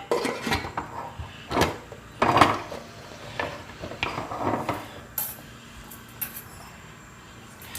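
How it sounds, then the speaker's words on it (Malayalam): A pressure cooker lid is closed in a home kitchen, giving a series of quiet metallic clanks, knocks and clicks spread irregularly over several seconds, close by. "ഇനി കുക്കർ അടയ്ക്കാം."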